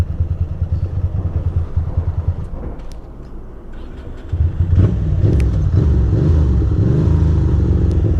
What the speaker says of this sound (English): Why did the bike just shut off like that?